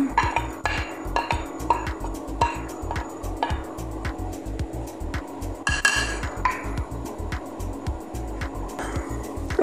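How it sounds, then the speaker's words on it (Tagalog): Onion sautéing in oil in a cooking pot for a creamy chicken pineapple dish, a steady sizzle under repeated sharp clinks and scrapes of a utensil against the pot, close and fairly loud, with no talk. "igisa lang natin ang ating onion hanggang labas ang kanyang aromatic smell or flavor"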